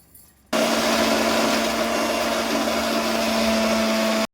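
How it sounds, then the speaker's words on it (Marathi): An electric kitchen grinder switches on after a brief quiet moment and grinds garlic cloves, ginger and green chilies with salt and cumin for chutney. It gives a loud, steady, close whirring drone with a constant motor whine until it stops abruptly. "आणि 6-8 लसणाच्या पाकळ्या घ्यायच्या आणि ते सर्व ग्राइंड करून घ्यायचं"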